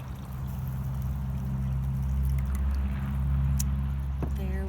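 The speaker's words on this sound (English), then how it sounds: "Take our jar of dissolved sugar water, pour it into the hummingbird feeder." Dissolved sugar water is poured outdoors into a hummingbird feeder, giving a continuous, close liquid pouring and gurgling that runs steadily for several seconds with no speech over it.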